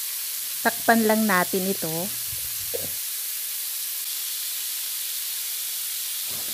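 Beef stir-fry sizzles loudly in a pan after fish sauce is added, a steady close hiss under a short spoken remark, then the frying continues alone.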